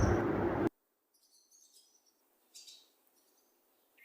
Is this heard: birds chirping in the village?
yes